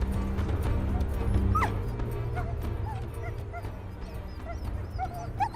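A team of sled huskies barks and yelps steadily on an Arctic expedition, several dogs close by with sharp yips and whimpers over a constant low rumble, with no one talking.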